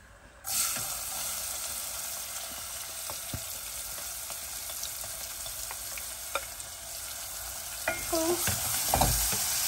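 Onion, garlic, chili and ginger fry in a pan for Fiji-style dhal, a steady close sizzle broken by scraping stirs, with a louder clatter and burst of frying near the end.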